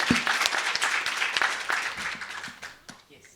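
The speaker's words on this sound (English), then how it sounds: "Can we give a last round of applause to the panel?" An audience at a conference plenary gives a final round of applause to a panel, with dense, fairly loud clapping that thins and fades over about three seconds as individual claps trail off.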